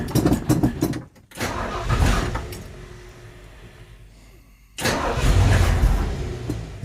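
An old car's engine cranks and catches, stumbles and dies back, then fires again with a rough, uneven idle from a poorly running carburetor, loud and close with no talk.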